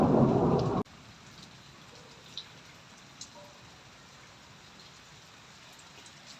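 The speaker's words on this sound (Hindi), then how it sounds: "पूरा आसमान गरज रहा है" A loud rumble of thunder cuts off abruptly, leaving a quiet patter of rain with a few faint drips, during the first rain of the season.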